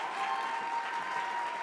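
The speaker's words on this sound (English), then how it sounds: "Give a round of applause." Applause from an audience at a live-streamed San Francisco Court Appointed Special Advocates event, a steady dense wash of clapping filling the room at moderate level, continuous with no talk over it.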